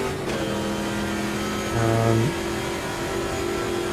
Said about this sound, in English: these Montanas with the side exhaust have some very nice reverb off the wall